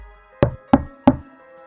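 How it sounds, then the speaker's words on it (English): Three sharp, evenly spaced knocks on a closet door at night, close and distinct, each with a short resonant thud, alone in near silence. "I knocked."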